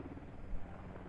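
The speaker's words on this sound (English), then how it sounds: "Helicopters just living life to provide fire support from far" Helicopter in the tactical shooter Squad, heard as a faint, steady rotor drone and low thudding rumble from a distance, with no talking over it.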